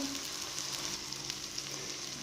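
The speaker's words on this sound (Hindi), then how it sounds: "इसे हल्की आंच पर फ्राई करते हुए हमें 5 मिनट हो चुके हैं। 2-3 मिनट हम और इसे फ्राई करेंगे।" Goat brain frying in a pan over a low flame, a steady soft sizzle with faint crackles and pops throughout, close and unbroken.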